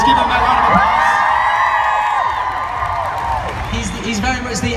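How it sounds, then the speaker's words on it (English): An audience at the Summer in the City Awards 2016 ceremony whoops and cheers loudly, with a crowd roar and a high tonal sound over it, fading slightly toward the end. "Give him a round of applause."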